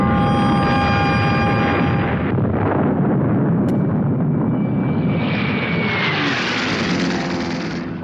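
Heavy explosions and engine roar from a wartime bombing raid on Schweinfurt with B-17 Flying Fortresses, a dense, loud rumbling barrage with a whining tone sweeping through it.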